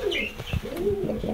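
Pigeons in a loft during the mating season coo in soft, throaty rolling calls, close and fairly clear, with a few light chirps mixed in.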